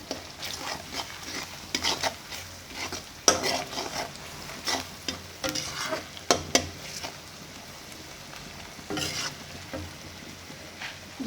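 Ground spices frying in a pan for homemade dal, stirred vigorously with a spoon, a constant sizzle broken by repeated scraping and knocking strokes, loud and close, with no talking.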